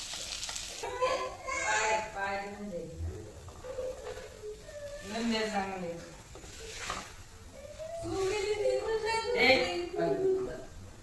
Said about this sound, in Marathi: त्याकरता भाज्या फ्राय करून घ्यायच्या